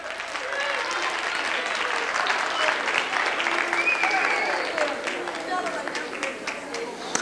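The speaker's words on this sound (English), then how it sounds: "Give a big round of applause." Applause from a middle school assembly audience, a dense steady clapping that swells and carries on for several seconds, with a few voices in the crowd.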